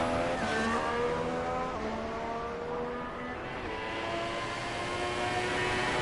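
Ferrari race car in the GP2 video game at the Canadian round, engine screaming down the back straight with a steady, loud whine that climbs through several gear shifts, with a couple of cars overlapping.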